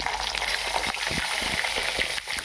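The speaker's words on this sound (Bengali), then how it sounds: "ওই তেলের মধ্যেই আমি রান্নাটা করছি বেগুনগুলো ভেজে নেব" Eggplant pieces frying in hot mustard oil with turmeric, panch phoron and dried red chillies, a steady close sizzle with small crackling pops throughout, no talking.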